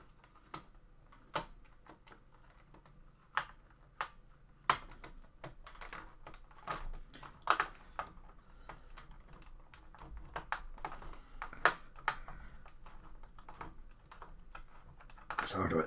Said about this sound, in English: Taking the screws out, we've got 3 screws so far.